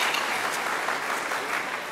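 Audience applause at a kindergarten celebration at an elementary school, a steady dense wash of clapping that holds evenly loud throughout without pause.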